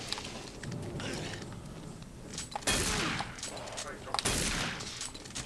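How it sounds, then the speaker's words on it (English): Shotgun blasts in Doom 3 crack out in heavy bursts amid a dense, continuous din of game combat noise, with two sharp loud shots standing out partway through. "this shotgun is a lifesaver right now"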